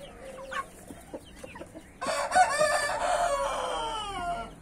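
A naked-neck rooster gives a loud, drawn-out crow close by after a few scattered clucks, the crow holding for about two seconds before fading.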